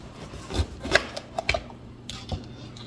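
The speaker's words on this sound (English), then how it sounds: "now we're going to slice the top off of the pepper" A kitchen knife slices the top off a pepper while a turkey meatloaf is being prepared: a few short, close scraping cuts and light taps on a board over about three seconds.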